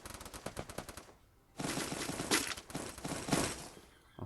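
MP5 submachine gun fire in a video game, one rapid burst and then a longer sustained stream of automatic shots, loud and close with no talk.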